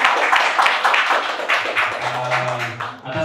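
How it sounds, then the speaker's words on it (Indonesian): Scattered clapping from an audience at a public discussion on the future of democracy held in a cafe, a few claps standing out over a continuous murmur of voices, with a sustained tone entering near the end. "Kasih tepuk tangan untuk Bang Gayek dulu ya."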